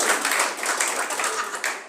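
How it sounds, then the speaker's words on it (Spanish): Brief clapping from a small group at a Bible class, close and fairly brisk with uneven individual claps blending together, lasting about two seconds. "Segundo aplauso."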